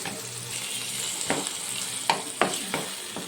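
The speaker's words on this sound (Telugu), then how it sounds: "టమాటాను కూడా వేయించి ఇది మెత్తగా అయ్యే వరకు మగ్గించుకోవాలి" Tomatoes sizzle and fry steadily in a pan, with several sharp scraping knocks as a utensil stirs them.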